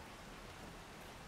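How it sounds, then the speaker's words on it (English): Rain in the video game 7 Days to Die, a faint, steady droning hiss of falling water with no breaks. "I hear this awful droning noise from the rain"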